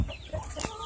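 Chickens cluck in quick, close bursts during a chicken catching challenge, with short sharp calls and some rustling movement over about a second.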